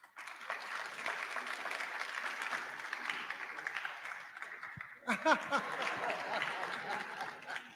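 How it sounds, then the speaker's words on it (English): An audience applauds at a medical college fellowship induction ceremony in Ghana, steady clapping from a large hall heard at moderate distance, swelling briefly near the end, with some voices and chuckles mixed in. "Please, let's clap. Let's keep clapping."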